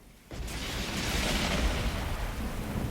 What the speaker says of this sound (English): there was a sound like the sky ripping apart and a blinding flash of light.